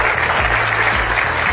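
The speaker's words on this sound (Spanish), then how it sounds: "Fuerte el aplauso para él." An audience applauds a Social Development Secretariat engineer being introduced at a public event in Zacatecas, Mexico, producing steady, dense, loud clapping with no gaps and a low hum beneath.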